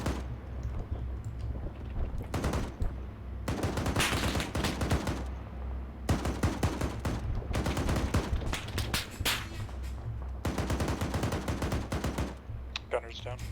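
Sustained automatic gunfire engaging bunkers in ArmA 3, dense bursts of rapid shots in several long volleys separated by brief lulls, loud and close, with faint radio-style talk underneath.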